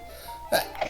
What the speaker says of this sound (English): A little sneeze.